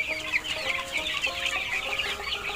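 Tiger chickens raised the desi way cluck busily nearby, several birds giving short overlapping calls throughout with no voice over them.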